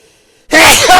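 After a short silence a video game character lets out a single loud, close sneeze that bursts in abruptly and rings out for about half a second.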